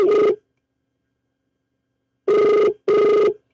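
Three short telephone ring tones: one at the start, then after a long silent pause two more in quick succession, each clear and close while the call goes unanswered.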